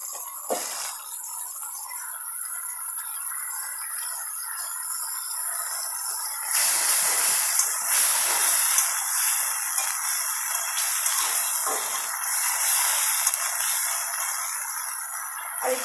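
Ginger-garlic paste frying with onion and garlic for a loitta shutki bhuna, giving a steady hissing sizzle throughout that grows louder and fuller about halfway, with faint stirring scrapes and no talk.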